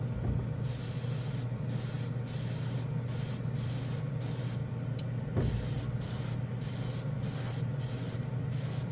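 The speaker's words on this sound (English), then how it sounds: "Let's check out if we can spray this all Clad Chrome nice and even." Budget airbrush spraying Clad Chrome paint over gloss black, a continuous airy hiss over a low compressor hum, broken by short regular pauses as the trigger is released and pressed again.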